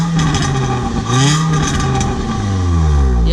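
A Nissan Sentra SE-R Spec-V engine with newly installed headers revs hard several times, each rise and fall in pitch loud and close, with a raspy exhaust note between the blips.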